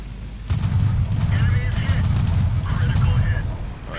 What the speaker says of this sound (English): this is an autoloader, or a flat cannon, I should say